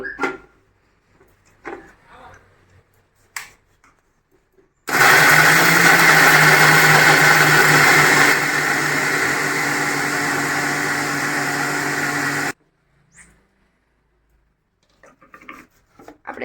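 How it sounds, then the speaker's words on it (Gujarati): An electric mixer grinder grinds churma ingredients for churma laddu, starting abruptly as a loud, high whirring roar. The pitch drops slightly partway through, and the roar runs for about eight seconds before cutting off, with quiet handling noises before and after. "આપણે હવે મિક્સર સારમાં લઈ લીધું છે અને આપણે હવે મિક્સરમાં દળી લેવાનું છે"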